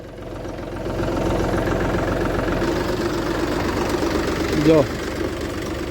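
A farm tractor on a Gujarati field site idles with a steady low rumble and knocking throb, close by, while someone speaks over it.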